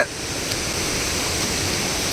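Steady rushing water of a large waterfall at Arikkachal splashes and roars continuously, a dense broadband wash with no pauses and no voices.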